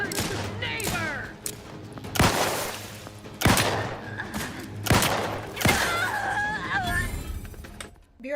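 Gunfire in a PC video game, with repeated loud shots and heavy bursts. Sharp high whistling tones and a steady low hum run underneath.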